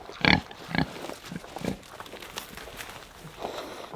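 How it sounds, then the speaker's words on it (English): Pigs on a farm snorting and grunting at feeding time, a few short close grunts over shuffling footsteps and faint rustling, fairly quiet. "Hey pigs!"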